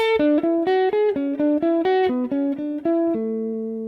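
A plucked guitar runs down a scale in a brisk, regular sequence of single notes, closing on a longer ringing note that slowly decays.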